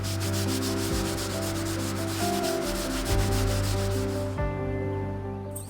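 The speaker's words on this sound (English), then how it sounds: "use a 150 grit sanding disc and hand sanding block to gently sand the stains on the surface" Rhythmic back-and-forth rubbing of a 150 grit sanding disc on a hand block against wood furniture, steady repeated strokes close by, with a low hum behind and no talking.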